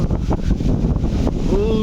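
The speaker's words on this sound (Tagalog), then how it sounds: "Lakas ng hangin." Heavy wind buffets the microphone in a constant low roar, with gusty rumbling throughout and a faint tone near the end.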